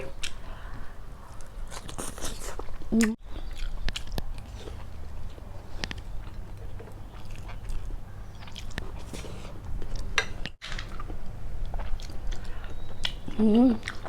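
Close-up mouth sounds of someone biting and chewing spicy boiled apple snails, steady wet crunching and mastication throughout, with brief speech moments.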